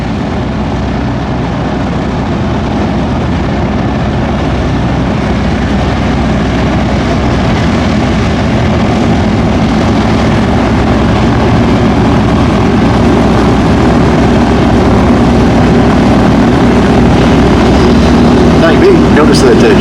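A steady, loud low engine drone runs throughout with a broad rumbling hum from a taildragger propeller plane taxiing nearby, with voices faintly mixed in.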